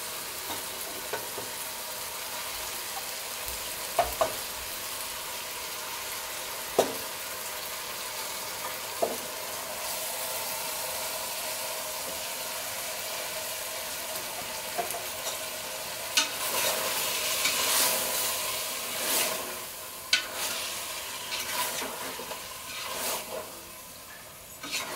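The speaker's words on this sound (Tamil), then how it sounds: "நம்ம போட்டிருக்க சிக்கன் வந்து கொஞ்சம் நல்லா வதங்கி வரட்டும்" Marinated chicken sautés with onion and tomato in a pressure cooker pot during a biryani cook. It gives a continuous soft sizzle and frying hiss, with occasional scrapes and clinks of stirring spread across the clip.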